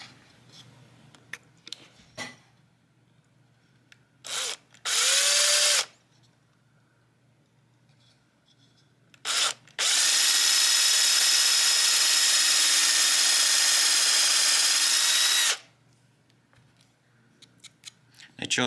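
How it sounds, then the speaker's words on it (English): A power drill bores a hole through a broken guitar peghead into a scrap of MDF, giving a short whining burst and then a steady, loud run of about six seconds, with quiet handling noises between. "drill this hole up to size, and actually put a pin through"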